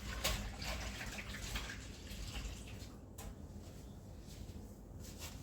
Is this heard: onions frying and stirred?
no